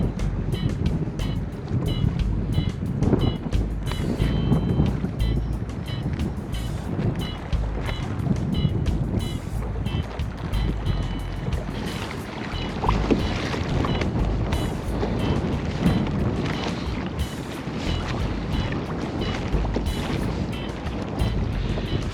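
A Hobie Compass pedal kayak moving across open ocean water off Ocean City, Maryland, with steady water rush and lapping against the hull under constant wind buffeting, continuous and fairly loud throughout.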